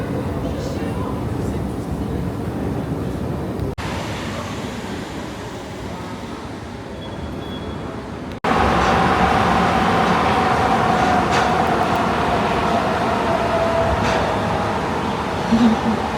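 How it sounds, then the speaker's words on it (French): Rumbling train noise at Marseille Saint-Charles railway station in France: a steady, loud wash of rail and station ambience that cuts abruptly partway through and then resumes even louder. "nous sommes à la gare Saint-Charles."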